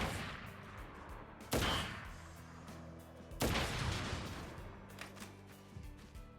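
Two loud, sharp gunshot blasts ring out in Crisis Core: Final Fantasy VII Reunion, about two seconds apart, each trailing off into a low rumbling decay over the game's background music.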